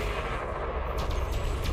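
Rapid, dense spaceship multi-cannon fire in a space combat video game, a continuous loud rattling roar with no pauses, heard alone without talk.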